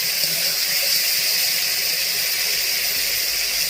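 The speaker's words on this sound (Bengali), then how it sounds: "জল দিয়ে দিচ্ছি।" Water poured into a simmering fish curry with potato and cauliflower, a steady close hissing gush lasting throughout with no talk.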